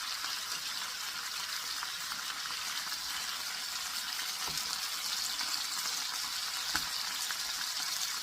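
Chicken souvlaki pieces sizzle steadily in a hot pan, a dense continuous frying hiss with a couple of soft knocks as pieces are flipped.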